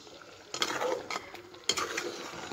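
Grated coconut stirred into an eggplant curry in a metal pot, two bursts of scraping and clinking from a spoon against the pot, separated by a short pause.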